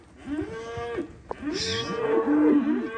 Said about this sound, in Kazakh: Бул жакта бүт эле ирик букалар экен, чоң-чоң килтейген букалар.